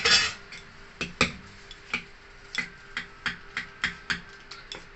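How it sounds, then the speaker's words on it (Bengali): Moong dal idli batter mixed with vegetables in a bowl: a steady series of about a dozen crisp spoon clinks and scrapes against the bowl, close by and evenly spaced, with no voices. "ভালো করে মিশিয়ে নেব।"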